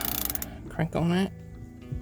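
Socket ratchet cranking the steering wheel hub bolts on a fourth-generation Camaro Firebird, a rapid rattling click burst at the start followed by brief mechanical clicks and a short vocal sound, close up.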